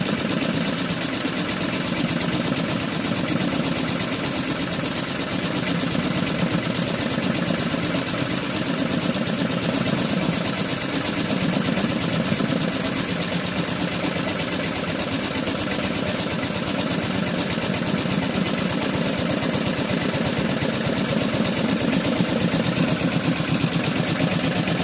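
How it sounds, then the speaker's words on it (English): An embroidery machine stitches a name tape at 500 stitches per minute, giving a steady, even mechanical drone with a fast, buzzing rhythm that carries on unchanged for the whole stretch. "We're running at 500 stitches per minute."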